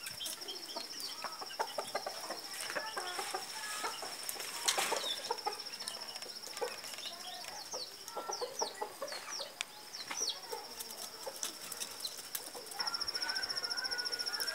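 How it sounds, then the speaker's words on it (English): A black mother hen and her chick on a farm, with soft scattered clucks and peeps over a steady outdoor background and a brief flutter of wings. "That's the mother hen together with a chick."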